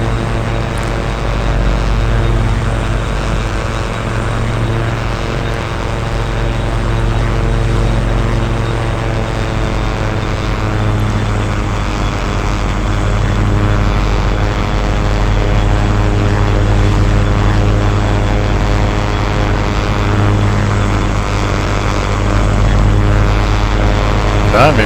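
An OV-10 Bronco twin-propeller aircraft in the DCS flight simulator drones steadily with its gear down on landing approach, a loud continuous engine hum with strong low tones that runs unbroken and alone throughout.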